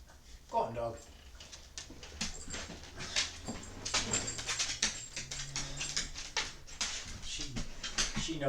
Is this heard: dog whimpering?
yes